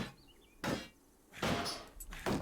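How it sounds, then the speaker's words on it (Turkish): Repeated heavy blows against a door in the video game Dysmantle, three dull thuds spaced apart and fairly close, with quiet gaps between. "Kırar kapıyı girerim içeri."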